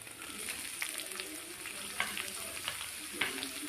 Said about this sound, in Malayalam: ഇതിലേക്ക് സവോള ഇട്ട് കൊടുക്കുക.